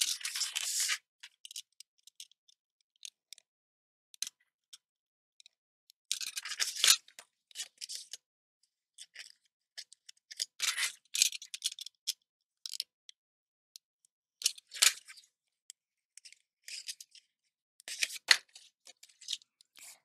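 Paper being cut with scissors or a blade while making notches for a pop-up book page, heard as sparse, faint crisp snips and scraping strokes spread across a quiet background.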